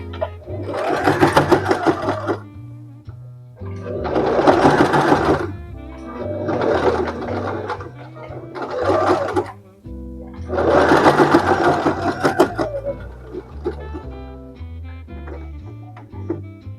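Domestic sewing machine stitching fabric in bursts of a few seconds each, running fast with steady motor whir and needle clatter, close and loud, pausing between runs while music plays underneath.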